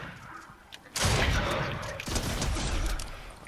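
Gunfire in the Fortnite battle royale at Coney Crossroads: a loud, dense stretch of shots and rattling bursts, fairly close, after a quieter opening.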